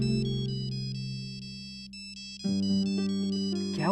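A mobile phone ringtone from a persistent caller plays a repeating electronic melody over a sustained tone, loud and close, with no voices.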